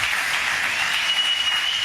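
A church congregation claps loudly together, a dense and even wash of applause throughout the short moment.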